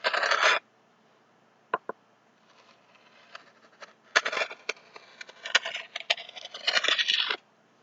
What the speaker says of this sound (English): just going to be cutting a little bit off the frills.